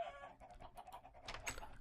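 Chickens in the game Minecraft cluck in a quick burst of short, close calls that lasts under two seconds.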